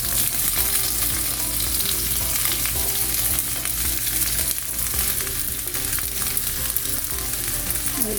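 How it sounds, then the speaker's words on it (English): Vegetables sizzle loudly and steadily in a hot pot for a chicken chow mein, a dense, continuous frying hiss up close with no talking. "So now I'm going to add my vegetable to the pot."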